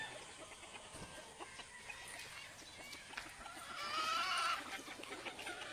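A rooster and chicks being fed on a farm, with soft, faint clucking and chirping from the birds across a steady low background, a little busier near the end, and no talk.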